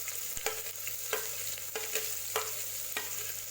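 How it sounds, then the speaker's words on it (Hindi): Chopped onions fry in oil with cinnamon and cloves for a dhaba-style chicken curry, a soft, even sizzle broken by regular stirring scrapes about every half second. "फाइनली चॉप ऑनियन डालेंगे।"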